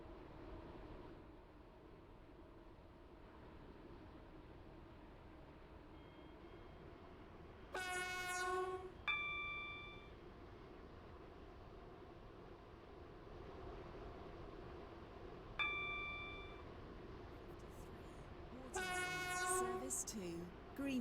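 A train running in the Roblox game Stepford County Railway gives a steady low rumble throughout, with two bursts of a harmonic horn, one near the middle and one toward the end.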